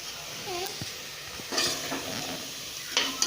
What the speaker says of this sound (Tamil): எண்ணெயில் நல்லா வணக்கி விட்டுக்கோங்க.